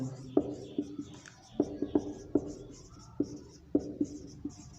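A pen writing a heading on paper, with close, sharp taps and short scratchy strokes in an uneven rhythm under a faint background hum.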